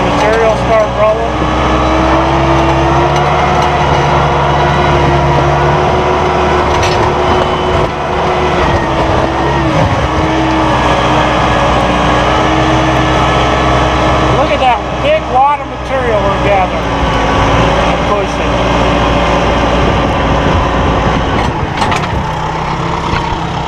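Massey Ferguson 1760M tractor pushing material with a RhinoAG 70-07 blade fitted with end plates and skid shoes, a close steady diesel drone with slight load changes, while someone talks over it throughout.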